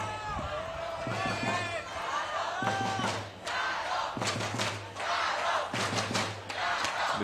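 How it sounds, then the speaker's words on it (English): Crowd cheering and shouting at a beach volleyball quarter final match, with rhythmic chants and bursts of voices rising and falling, interrupted by repeated sharp thumps of ball strikes. "The cheers from the crowd."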